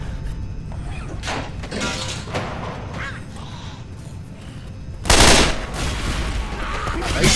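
Gunfire and explosions from the video game Left 4 Dead 2, in the shipyard stage of The Sacrifice, come as bursts of rapid shots and clattering impacts, then a loud blast near the five-second mark with a rumbling tail.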